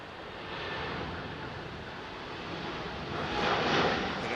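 Virgin Boeing 787 Dreamliner on its takeoff roll at London Heathrow, using maximum runway: a steady, broad jet-engine roar heard from a distance that swells slightly louder toward the end.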